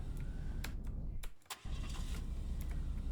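In Roblox, a car engine cranks and catches, a short starter whir, then a steady mid-pitched idle with a few clicks, all fairly quiet.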